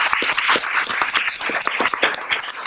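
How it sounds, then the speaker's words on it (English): Audience at a school board meeting applauds an honored advisor, a steady dense wash of clapping from a crowded room that holds at fairly even loudness throughout, with no talk over it. "Let's give him another round of applause, Franklin."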